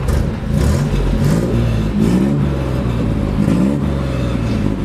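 1968 Jeep Commando with a Dauntless V6 running close by, a loud, rumbling idle rising into several throaty revs that swell and fall back in a repeating rhythm.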